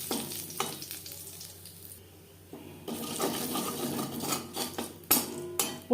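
Whole cumin seeds fry in hot oil in a wok, making soft crackling sizzles that swell into louder bursts, with a few clinks of a utensil against the pan.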